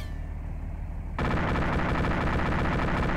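Heavy machine gun fire in a first-person military video game, a loud, continuous rapid burst that starts abruptly after a quieter stretch and then hammers on without pause.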